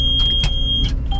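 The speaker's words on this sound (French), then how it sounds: "le bip qu'il y a eu là, c'est que j'ai commencé à reculer et j'avais le frein à main" A combine harvester in a rapeseed field gives short electronic warning beeps as it starts reversing with the handbrake on. The high tone sits over a low engine rumble, with a couple of soft clunks.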